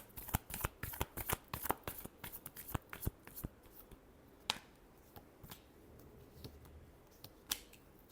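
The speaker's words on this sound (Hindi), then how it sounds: "Last shuffle." A deck of tarot cards is shuffled up close, a quick run of crisp riffling snaps at first, then slower scattered card flicks and taps, quiet and without speech.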